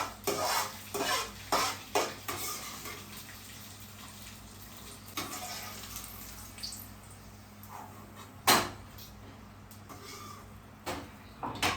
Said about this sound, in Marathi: बस हलकंसं भाजून घ्यायचं.